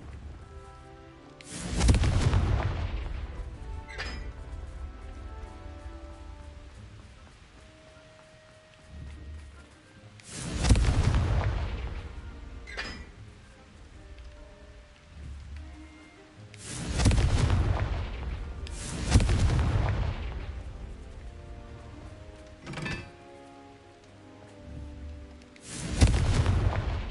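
Confringo fire spells explode in Hogwarts Legacy, a video game, with five loud booming blasts at irregular intervals, each a broad burst that rumbles and fades, over a low ambient game bed with occasional sharp cracks between.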